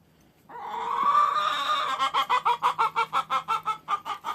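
Chickens cluck close by in a farmyard pecking-order squabble: a drawn-out rising squawk gives way to a quick, steady run of about a dozen rhythmic clucks.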